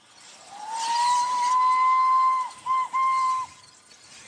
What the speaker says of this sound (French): Un coup de sifflet, un panache de fumée, le convoi trace sa voie.